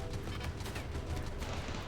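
Rapid burst of cannon turret fire in the game Rimworld, a dense continuous rattle of shots that stays loud and close throughout with no talking.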